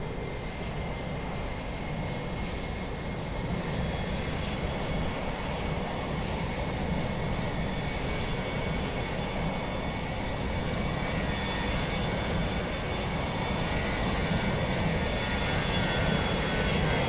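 Simulated Iberia jet taxiing at Dublin Airport in Microsoft Flight Simulator 2020, a steady, loud engine roar and whine that holds without a break.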